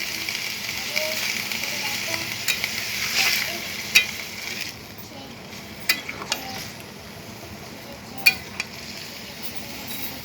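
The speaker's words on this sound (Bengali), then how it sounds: "এখন দিয়ে দেবো জল।" Water poured into a hot pan of spices and turmeric, giving a steady broad sizzle that fades slightly, with occasional clinks of a metal spatula against the pan.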